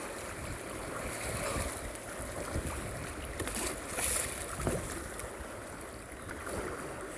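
Kayak ride through rapids on the flooded James River, with steady rushing, churning water and broadband splashing throughout, a few louder surges near the middle, and wind buffeting in the background.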